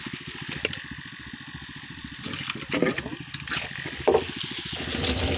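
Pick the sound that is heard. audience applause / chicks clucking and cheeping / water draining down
water draining down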